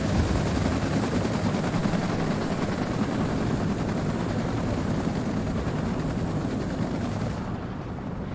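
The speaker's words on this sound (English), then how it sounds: "let's see our helicopter assault coming in." A helicopter assault flies in during the Cold War strategy game WARNO: a loud, dense rotor roar mixed with distant battle rumble, steady throughout and easing slightly at the end.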